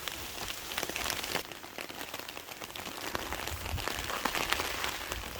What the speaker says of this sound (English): That's little bits of hail.